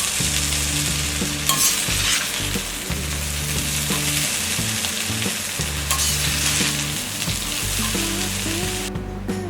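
Cooked carrot rice is stirred in a hot pan, a continuous scraping and sizzling close up, with the spoon's rhythmic strokes over steady frying noise and no talk.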